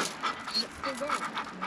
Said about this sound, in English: he's just been whining and whimpering, ready to go